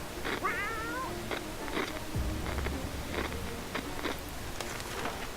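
A cat in the survival video game 60 Seconds lets out a few short meows and a trill among scattered clicks and a low thud, fairly faint and spaced apart, with no speech.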